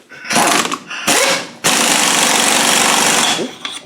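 Loud close bursts of a power tool whirring and rattling as it spins off a tight locking ring on a Land Rover R380 gearbox, starting and stopping twice before one long sustained run.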